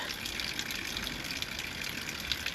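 Water drains steadily from pipes after an old tap is removed, a continuous close gushing and trickling rush that holds an even level throughout with no talk.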